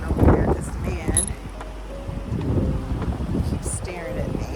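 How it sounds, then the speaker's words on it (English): Wind blowing outdoors in nature, a steady rumbling buffet on the microphone with rustling, while someone talks throughout. "it's so windy out here"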